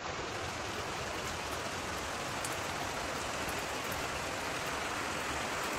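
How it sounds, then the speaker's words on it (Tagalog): A small waterfall along a wet forest trail pours steadily, a dense, even rush of flowing water that fills the scene without pause and with no voices. "May waterfalls na maliit."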